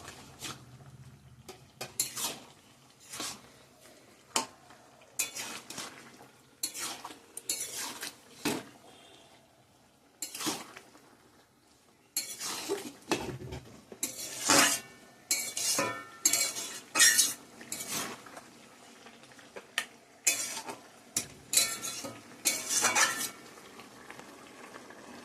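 Fish pieces go into a simmering curry and are stirred in the pot, with irregular clinks and scrapes of a spoon against the metal over a soft bubbling background, quiet and close.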